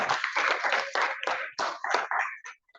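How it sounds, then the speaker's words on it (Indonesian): A small group, apparently students at a school field practice, claps in short uneven bursts, close and loud, tapering off into a few scattered claps at the end. "Tepuk tangan."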